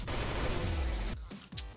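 Gunfire in the online shooter Arsenal during a free-for-all match, a dense burst of rapid shots followed by a pause and one more sharp crack.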